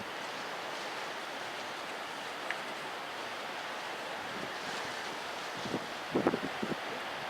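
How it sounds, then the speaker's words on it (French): Steady broadband wind roars throughout, strengthening at night on Ouessant island by the sea, a constant whooshing rush with a few faint knocks and creaks near the end. "Le vent forcit et j'ai l'impression d'être dans une lessiveuse."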